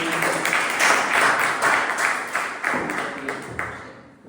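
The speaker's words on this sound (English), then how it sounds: "Please give it a round of applause." Sustained applause from a crowd at a Toastmasters club meeting, dense clapping that swells early and then gradually thins out and fades.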